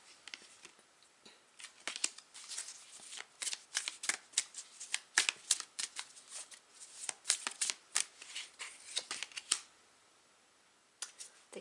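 Tarot cards being shuffled for a card reading, a long run of crisp riffling and flicking bursts, close and fairly loud, that break off near the end with no talk over them.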